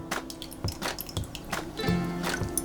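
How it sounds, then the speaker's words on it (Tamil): Tamarind water poured into fish curry masala, giving wet squishy drips and splashes of liquid in an uneven rhythm, close and moderately loud with a low steady hum underneath. "இப்போ கரைச்சி அதில் ஊற்ற போகிறேன்."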